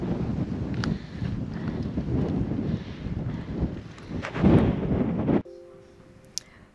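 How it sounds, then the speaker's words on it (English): Strong wind at Rockhound State Park in Deming, New Mexico buffets the microphone in a loud, continuous rumbling roar that surges and then cuts off abruptly near the end. "we're trying to figure out what we're gonna do here with these winds"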